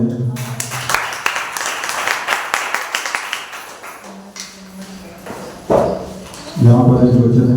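A church congregation claps during a Sunday service at Greater Grace church, a dense patter of hands that fades before a voice begins speaking near the end.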